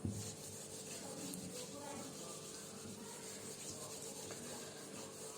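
Cloth or duster rubbing writing off a classroom board, a steady close scraping swish running throughout with faint background room noise.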